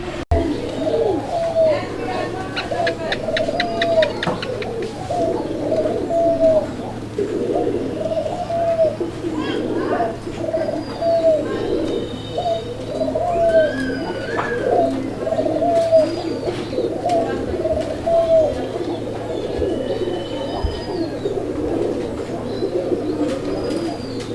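A pair of red-coloured Raj Golla pigeons coo repeatedly in soft rolling phrases close by, with a low steady hum and occasional faint chirps in the background.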